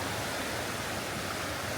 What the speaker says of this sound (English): kind of like a mini cascade, and I guess I wouldn't call it a waterfall, but the river